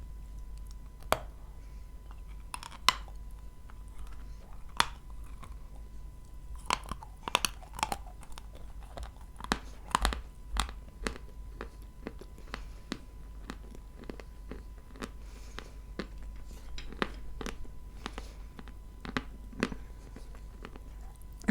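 Quiet, close chewing of dry bread rings with soft irregular crunches and clicks spread over a long stretch, no voices, just a low steady hum underneath.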